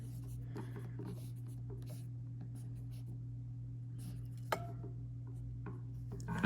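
A pen or marker writing out a math equation for an inverse functions lesson, faint scratchy strokes in short bursts over a steady low hum, close and quiet.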